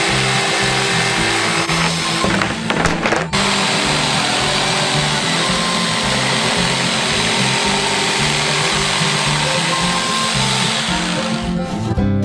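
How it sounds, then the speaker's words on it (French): An electric jigsaw cuts steadily through a drawn shape in material for a giant homemade Bounty/Twix bar, giving a continuous buzzing, rattling whine with a couple of brief clattering bursts near the start. "Il reste à la découper avec une scie sauteuse électrique."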